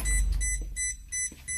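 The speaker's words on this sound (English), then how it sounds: "That headlight, that's just beeping because of the headlights" A Blue Bird school bus sounds a repeated electronic warning beep for headlights left on, a few evenly spaced tones over a low idle-like hum, close inside the cab.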